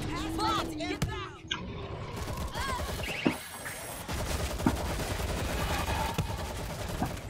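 Automated turret fires repeatedly in the zombie shooter World War Z, with dense rapid gunfire bursts continuing under in-game voices and combat noise.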